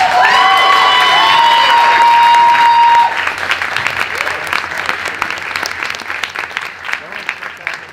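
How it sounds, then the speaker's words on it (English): A party crowd applauds during wedding-style speeches, with sharp clapping and some cheering rising after a few seconds of sustained music-like tones, lively and uneven to the end. "One round of applause for that"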